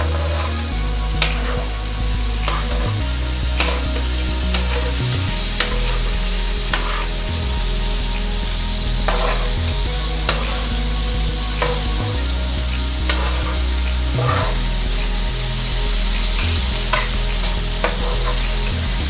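Ground beef for tacos fries in a pan heated to 375, a loud continuous sizzle with repeated scraping and stirring knocks at irregular intervals, and no voices.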